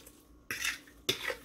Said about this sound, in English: I'm just going to give this a quick stir